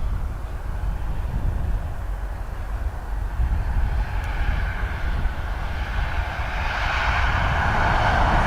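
Antonov AN-26B turboprop engines at Dublin Airport, a steady broadband roar and whine that holds throughout and swells slightly toward the end, no talk over it.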